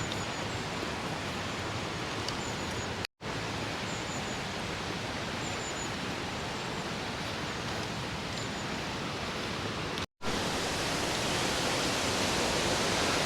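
A waterfall at Nepi produces a dense, constant roar of rushing water heard close up. The sound is broken only by two very brief cuts to silence.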